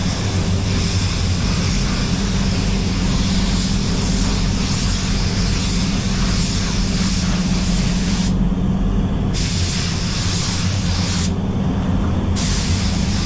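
Spray gun laying PPG LVC-105 clearcoat on a BMW X5 in a continuous loud hiss of atomized air, steady and close, briefly cutting out twice near the end.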